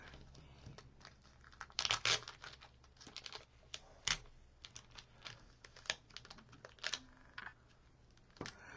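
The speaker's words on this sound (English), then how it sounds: "let's see about getting the packing tape off of it." Packing tape is peeled off baker's twine on a non-stick surface, producing close crackling, crinkling rips in irregular bursts with a few sharper snaps, alone and moderately quiet.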